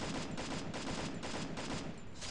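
Gunfire in the mobile battle royale game Free Fire, dense rapid bursts of shots running continuously and loudly throughout with no pauses.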